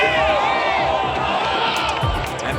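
A golf gallery at the 2014 PGA Championship roars and cheers for a Phil Mickelson approach shot, a loud sustained crowd swell with whoops and shouts throughout.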